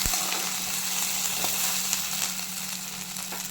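Chopped okra frying in oil in a pan, a dense, steady sizzle with faint stirring taps now and then, close and fairly loud with no talking.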